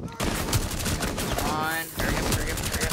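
Rapid automatic gunfire in the tactical shooter game Rainbow Six Siege, a dense loud burst of shots lasting a couple of seconds, then more firing after a brief gap.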